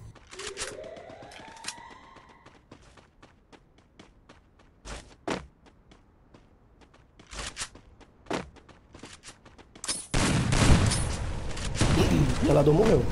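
Gunfire in the mobile battle-royale game Free Fire during a ranked solo match: sparse sharp shots and clicks early on, then a dense, loud burst of firing and noise near the end.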